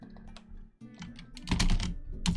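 A computer keyboard being typed on gives a run of close keystrokes that starts light and scattered, then turns into a louder, denser clatter toward the end.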